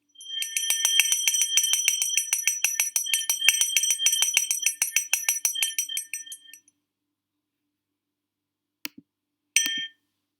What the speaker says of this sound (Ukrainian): звучить останній дзвоник